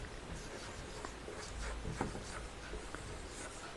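A pen or chalk writes the letter A in a short series of faint scratchy strokes over steady background hiss, with no talking.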